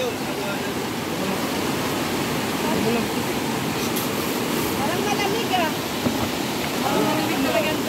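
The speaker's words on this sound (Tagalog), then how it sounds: "Ayan o, malakas yung alon" Strong sea waves at a beach during a family outing, a loud continuous wash of surf roaring throughout while people talk nearby.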